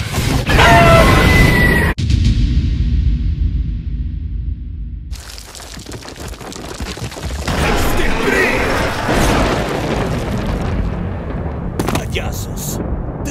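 An atomic blast hitting a monster: a roaring explosive burst with crackling debris, then rumbling surges and further sharp bangs, with a voice speaking over parts of it.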